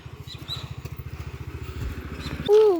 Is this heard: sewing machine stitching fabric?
no